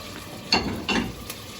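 Radicchio hits hot olive oil with diced capocollo, garlic and hot red pepper, giving a soft sizzle broken by two short bursts of crackling as the leaves land and get stirred, close and fairly quiet.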